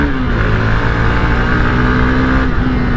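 A Hero XPulse 200T 4V motorcycle engine from 2023, red-lining at 10,500 RPM, holds a loud, steady high-revving drone close by, with a slight dip in pitch near the end.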